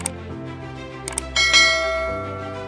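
A bell sound effect for a subscribe bell icon: a few light metallic taps lead into a louder ringing bell strike that sustains and slowly decays.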